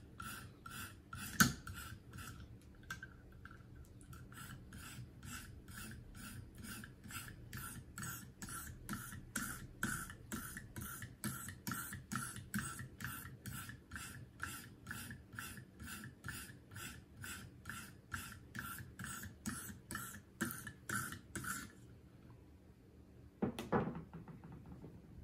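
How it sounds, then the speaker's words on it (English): A Farberware kitchen knife is worked on a KME guided sharpener with downward strokes, giving a long, steady run of evenly spaced rasping scrapes that stop briefly, then a final scrape near the end. "I'm going to try just downward strokes on this knife for the entirety of it"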